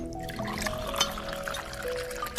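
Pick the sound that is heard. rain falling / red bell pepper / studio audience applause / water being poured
water being poured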